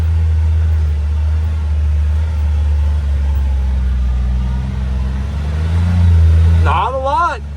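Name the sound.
CFMOTO U10 PRO side-by-side driving in a tight turn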